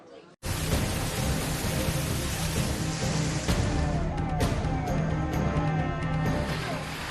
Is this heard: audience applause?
no